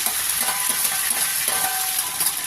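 Curry leaves crackle in hot oil for rice upma, a steady, bright hiss of sizzling with small pops, close up and without any talking.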